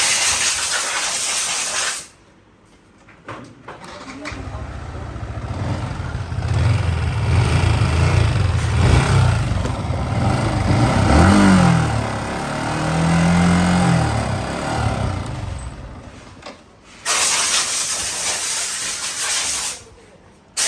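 A Yamaha R15 V3 motorcycle with a bad engine sound in a service workshop, a rough, hissing running note that swells and dips for about fifteen seconds, bracketed by harsher noise bursts at the start and end.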